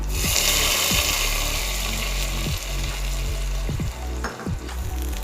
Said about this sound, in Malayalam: ഈ സാമ്പാറിലേക്ക് ഇത് താളിച്ച് കൊടുക്കുകയാണേ